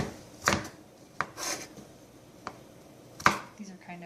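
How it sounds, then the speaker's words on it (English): A knife chops vegetables into small square pieces on a cutting board for a vegan recipe: a few sharp, separate knocks with short rubbing scrapes between them, fairly close and quiet. "Good chopping skills. Lots of chopping."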